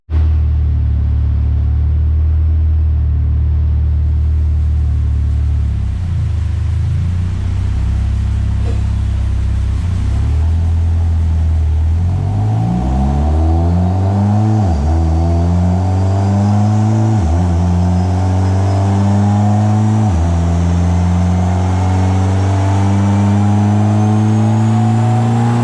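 A fully built turbocharged Mitsubishi Evo X MR with an SST gearbox, 62mm turbo and flex fuel roars through a dyno run, its loud engine climbing through the revs in repeated rising sweeps with clear shifts between gears.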